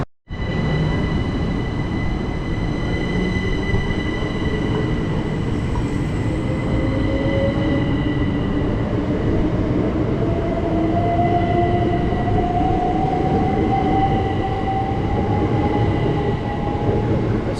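A train pulls out of Sittingbourne station close by, its motors whining with a slowly rising pitch over a steady rumbling roll, with high tonal hums throughout and no voices.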